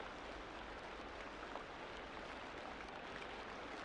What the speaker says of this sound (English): The sound of moving water fills the space from floor to open sky